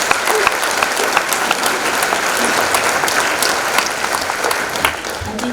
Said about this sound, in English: you must give yourself a round of applause.